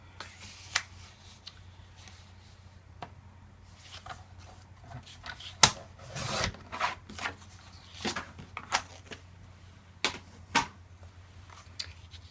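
Paper card cut for a memory box mini album: scattered crisp snips and rustles at close range, irregular and quiet, with brief louder cuts in the middle.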